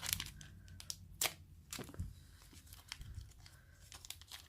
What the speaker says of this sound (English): get your wipes, your dry and wet wipe. You want to tear it like so